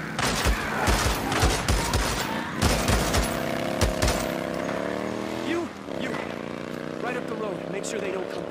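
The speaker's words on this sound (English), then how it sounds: "I heard gunshots" Rapid bursts of gunfire crackle over a steady engine-like drone and game sound effects in the video game Days Gone, loud and continuous throughout.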